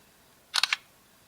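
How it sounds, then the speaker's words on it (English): An LG G2 phone camera fires its shutter on a spoken command: a brief, close, crisp burst of three to four quick clicks in an otherwise quiet room. "you can say something like cheese, smile, whiskey, kimchi, or LG to release the shutter"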